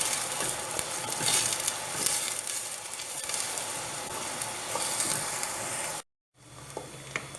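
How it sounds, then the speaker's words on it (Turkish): Constant loud sizzling of onions frying in hot oil, with occasional stirring scrapes and a short gap near the end. "Isınan yağa soğanlarımı bırakıyorum. Soğanlarımı iyice çeviriyorum."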